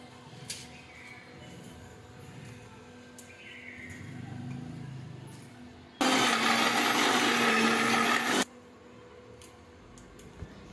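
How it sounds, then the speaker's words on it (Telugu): A kitchen mixer grinder (mixie) blending ingredients with a little tamarind and water. Quiet handling noises give way to a loud, dense whirring burst of about two and a half seconds, which then cuts off abruptly. "మిక్సీ ఆన్ చేసుకొని ఫ్రెండ్స్, కొంచెం మెత్తగా నలగడానికి కొంచెం వాటర్ యాడ్ చేయాలి"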